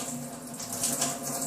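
A kitchen sink tap runs in a steady, close, even stream of water with no voices over it.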